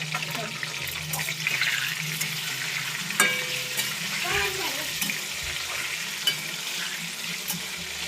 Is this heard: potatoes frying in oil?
yes